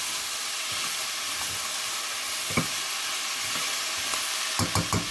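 Steady sizzling hiss of vegetables cooking in a pot for sambar, with a few soft scraping clunks of a spoon stirring near the end.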